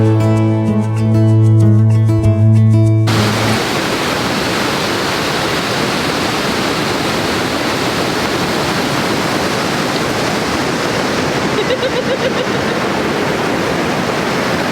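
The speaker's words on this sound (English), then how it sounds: "this is our first waterfall experience here in Iceland" Roaring Icelandic waterfall, a dense, loud, steady rush of falling water that runs unbroken after a few seconds of music at the start.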